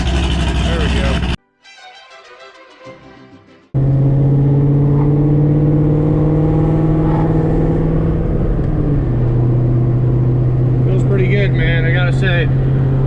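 Ford GT500 engine rumbling and revving from inside the car, loud and continuous, briefly cut off near the start, then a steady drone with rising and falling revs and a few higher whines later on.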